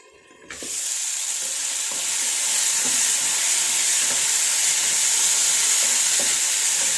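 Potatoes frying in a hot pan for a home-style stir-fry, starting with a sudden loud sizzle that settles into a continuous hiss with light stirring scrapes, close and alone without speech.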